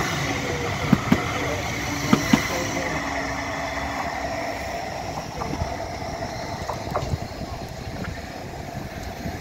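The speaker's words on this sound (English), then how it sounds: "One of the trams, guys." A Blackpool tram passes along the seafront on the route toward Fleetwood, a steady broadband rumble and rattle of wheels with a few sharp metallic clanks, set against continuous outdoor street noise.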